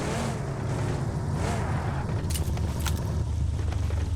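A car engine in the mobile game PUBG Mobile rumbles low and steady throughout, with a few small clicks and rattles on top.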